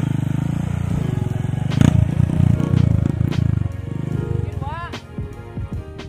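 An off-road trail motorcycle revs hard with a loud, close, buzzing engine drone that rises and falls, along with clattering rattles over rough ground, while people shout and talk throughout.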